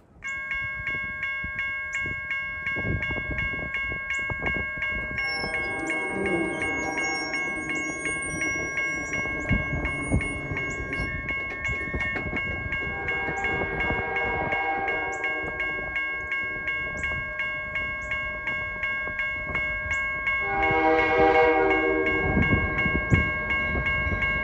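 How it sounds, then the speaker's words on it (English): A long freight train of 115 cars rumbles past with steady wheel clatter and droning diesel locomotives, tonal horn-like hums rising and fading in waves, growing louder near the end. "This train has 115 freight cars on it"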